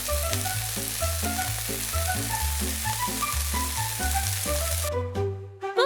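Onion frying in hot cooking oil for a mini street-food dish, a steady close sizzle with rhythmic stirring or tapping noises throughout, then fading at the end, no talking.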